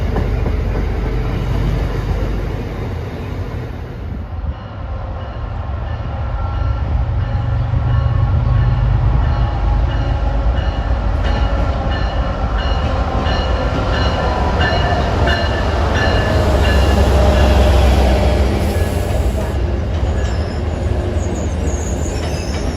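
An MBTA MPI HSP46 commuter locomotive with a 12-cylinder GEVO prime mover rolls past. The diesel drones loud and near, and the train's wheels clatter and squeal steadily on the rails.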